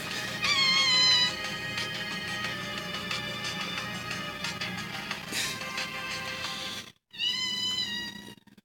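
A cat in a video game meows in a few drawn-out, tonal calls over a soft sustained musical background, with a brief silence before a final meow.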